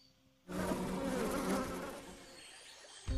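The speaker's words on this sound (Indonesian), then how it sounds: "Si elemen madu kemudian melepaskan beberapa lebah untuk memberitahu Johim" Bees buzzing in a jungle adventure film scene, a loud, dense swarm drone that starts abruptly, holds steady for a few seconds, then fades slightly before a sudden cut.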